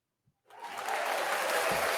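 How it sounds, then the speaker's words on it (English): Applause at an insurance awards announcement swells in from silence after a brief pause and builds into a steady, fairly faint wash of clapping that holds to the end. "Bit of applause there."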